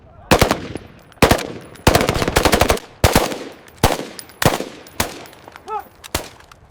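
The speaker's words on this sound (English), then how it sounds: "Iranian forces responded immediately, opening fire from defensive positions." Sustained automatic gunfire from defenders in a shipyard assault on an Iranian naval base, loud and close, in repeated hard bursts about every second over several seconds.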